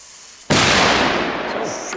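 A single very loud 5G firecracker, a heavy Dutch consumer banger, bursts up close after a moment of quiet, its sharp blast trailing into a long ringing decay.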